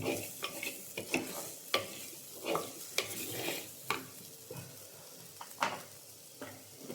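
Spice powders frying in a pan, with a steady low sizzle under repeated scraping strokes of a spoon against the pan, close and fairly quiet, in an irregular rhythm.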